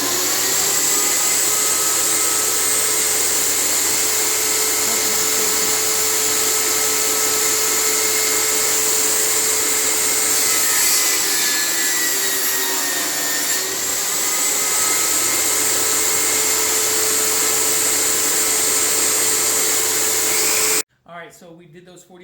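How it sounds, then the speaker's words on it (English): A table saw set at a 45-degree angle cuts wood for a magic wine holder, a loud, steady whining drone held for about twenty seconds before it cuts off abruptly. "So you set your table saw at 45-degree angles."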